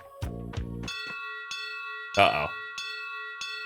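A bell rings repeatedly in the video game Tales of Vesperia, clear tonal strikes with a long sustained ring, one louder clang near the middle, while a voice briefly speaks over it.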